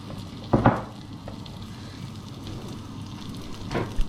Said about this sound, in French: Une huile bien chaude, voilà. Et go, c'est parti pour la cuisson du burger.